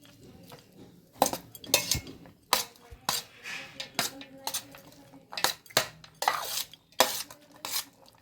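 A ladle scrapes and clinks against a metal pan while lemon rice with dal is stirred through hot oil, giving irregular close metallic knocks and scraping bursts with no talk.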